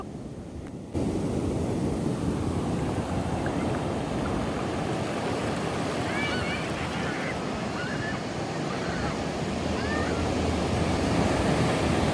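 Sea waves at Kashid beach, a constant broad wash of surf with wind, loud and steady after a short quieter start.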